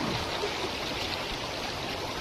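River water rushes after a typhoon in the rainy season, a dense, steady broadband flow that stays close and loud throughout with no speech over it.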